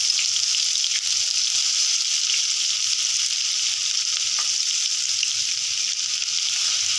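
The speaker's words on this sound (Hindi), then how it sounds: "और इसे थोड़ा हल्का फ्राई कर लेंगे।" Steady, close sizzling of ginger, garlic and chili frying in hot oil in a pan, a continuous crackle with occasional soft pops.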